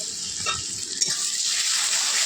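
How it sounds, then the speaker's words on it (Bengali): Crushed garlic, onion and ginger paste sizzle loudly and evenly as they are stir-fried in a pan. A couple of soft spatula scrapes sit over the steady hiss. "ভালো করে মিক্স করে নেব।"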